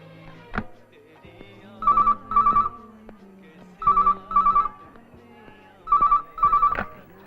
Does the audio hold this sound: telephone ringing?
yes